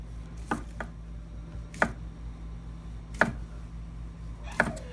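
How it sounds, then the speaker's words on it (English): A knife slices cooked sausage into quarter-inch rounds on a cutting board, giving four or five sharp, separate chops spaced about a second apart over a low background hum. "I'm just going to slice about 1/4-inch slices"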